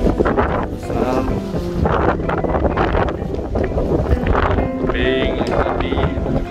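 Strong wind buffets the microphone at Melasti Beach in Bali, a loud, steady rumbling roar with gusts throughout, while a person talks over it.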